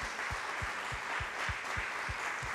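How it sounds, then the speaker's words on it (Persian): A congregation in church claps hands in a steady, even rhythm of roughly four beats a second, the claps soft and somewhat distant over a continuous background hum. "دست بزنیم برای خداوند ما با دست زدن او رو پرستش کنیم"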